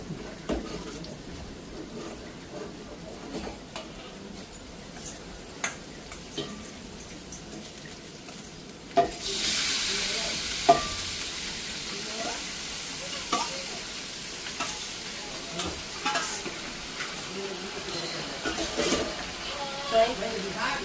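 Onion, green chili and curry leaves frying in hot oil give a steady sizzle that jumps louder partway through, with stirring clatter over it and speech in the background.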